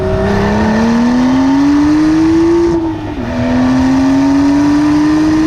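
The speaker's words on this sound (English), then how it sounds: "The soundtrack with the sports exhaust, okay, it's not as tuneful, not as varied as the old normally aspirated engine, but it's good for a turbo." A turbocharged Porsche 911 Carrera T or Mercedes-AMG GT C with a sports exhaust revs loudly from inside the car, the engine note rising steadily, dipping briefly at a gear change, then climbing again.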